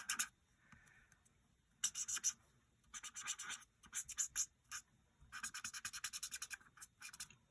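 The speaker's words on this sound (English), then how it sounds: "Lots of scratchy noises." A brush blending watercolour paint on paper, giving soft, close, scratchy strokes in short rhythmic bursts separated by quiet gaps, some runs of rapid repeated scrapes.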